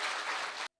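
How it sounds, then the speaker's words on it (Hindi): Audience at a Hindi kavi sammelan poetry gathering breaks into dense, loud applause to welcome a poet, a steady roar of clapping that cuts off abruptly into silence. "जोरदार तालियों से उनका इस्तकबाल किया जाए।"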